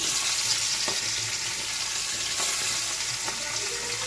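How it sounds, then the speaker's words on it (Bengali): Fish frying in hot oil: a loud, dense, continuous crackling sizzle fills the whole stretch, with occasional louder pops. "মাছটা দিয়ে দিয়েছে তেল গরম হয়ে গেছে"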